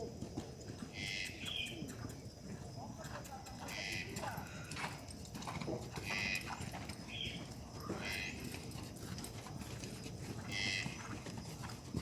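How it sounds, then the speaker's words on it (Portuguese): A horse gallops in riding training, hooves drumming in a steady rhythm with faint bird chirps and ambient outdoor noise, moderately close. "Começamos a galopar."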